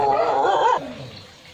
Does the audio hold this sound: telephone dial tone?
no